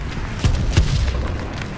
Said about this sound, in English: That artillery shell went across the camera.